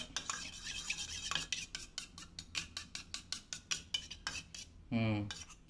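Spoon whisking egg with chilli in a bowl for a karam egg dosa, a quick series of light clinks and scrapes against the bowl, close and fairly quiet, ending in a brief louder clatter.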